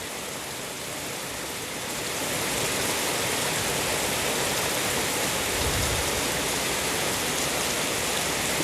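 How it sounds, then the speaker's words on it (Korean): Heavy rain pours steadily from an approaching typhoon on an early morning, a dense, constant hiss that swells louder after the first couple of seconds and holds, with a faint low thump partway through. "이른 아침부터 지금 비가 쏟아지기 시작하고 있네요"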